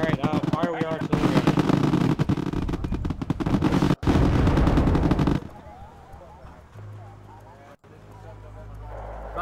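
Dense bursts of rapid gunfire and explosions fill a Wargame battle for about five seconds, loud and continuous, before dropping away to quieter rumbling with voices talking over it.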